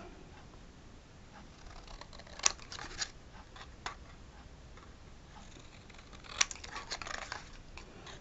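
Scissors snip the paper tips of a small handmade gift box, with a few quiet, crisp cuts and light paper rustling close by in a quiet room.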